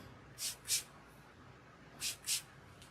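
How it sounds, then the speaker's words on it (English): A spray bottle of HairGro oil misting hair locs gives two pairs of quick, soft spritzes, each pair close together and separated by a quiet pause. "Separate the locks and spray them like so."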